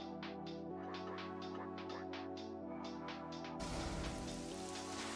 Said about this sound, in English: And it's really raining here in Nordschleife.